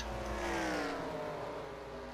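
NASCAR Camping World Truck Series trucks racing at Bristol, a loud continuous roar of several engines with pitch sliding downward as trucks pass close by, no voices.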